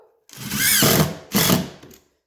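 A power drill driving screws into a floor after tile removal, two close, loud whirring bursts, the first longer with a rising pitch, then a short second run before stopping.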